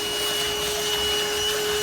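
A vacuum cleaner runs close and loud with a steady, even whine and airy roar, cleaning dirt while prepping a junkyard LS engine head.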